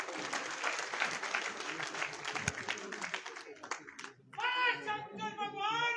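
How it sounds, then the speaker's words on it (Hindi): Applause from a crowd at a dharamshala inauguration in Karnal with the Haryana chief minister present. Dense clapping fills the first few seconds, thins out, and then a loudspeaker voice begins speaking. "जोरदार तालियों से।"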